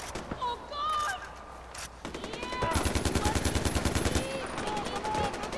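Automatic gunfire in the video game Far Cry 4, rapid bursts of shots rattling loudly over game sound effects while a player's voice talks and shouts over it.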